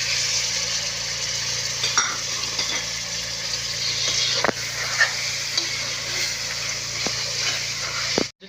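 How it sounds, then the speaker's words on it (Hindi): Chicken frying in a pan with spices for a bell pepper curry, a loud continuous sizzle broken by repeated scrapes and knocks of a spoon stirring. "अब हमने इसमें चिकन डाल देना है और अच्छे से भून लेना है"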